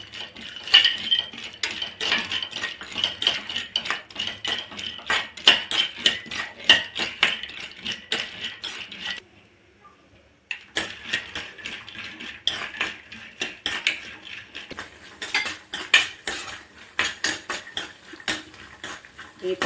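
Cashews stirred in a pan over a low flame, a spoon scraping and clinking against metal in quick repeated strokes, fairly close and moderately quiet, with a short pause partway through.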